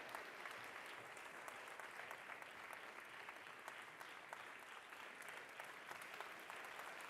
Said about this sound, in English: Big round of applause for the winners of the Creative Photo Awards.